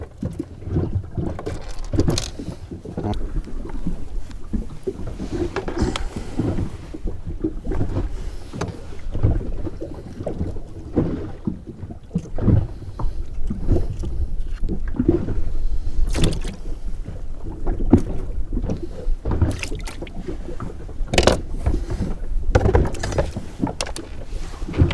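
Wind rising suddenly at sea off Corsica, heard from aboard a small fishing boat, with gusty buffeting rumble, splashing and irregular knocks across the whole stretch.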